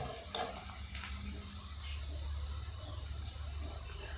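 Semolina is tipped into a frying pan and stirred for upma, giving a soft scraping sizzle over a low steady hum, with a sharp clink early on.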